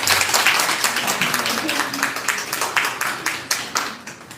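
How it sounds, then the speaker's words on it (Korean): An audience applauds at a Korean book concert, with dense, sustained clapping from a crowd that gradually thins into scattered, sharper claps toward the end. "박수 부탁드립니다"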